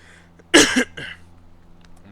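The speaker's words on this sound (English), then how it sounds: "I'm really sorry to annoy you with this cough" One person gives a single harsh, close cough followed by a softer throat-clearing rasp, heard over a faint steady background hum.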